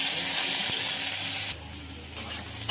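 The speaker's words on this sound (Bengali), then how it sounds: "পেঁয়াজ কুচিটা দিয়ে দেবো।" Chopped onion dropped into hot mustard oil with five-spice seeds in a wok, a loud close hiss that drops sharply partway through into a softer steady sizzle with a few stirring scrapes, no voices.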